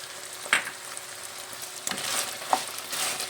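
Chopped peppers and onions sizzling in a hot pan, a steady crackle broken by a couple of clattering stirs, with no voices.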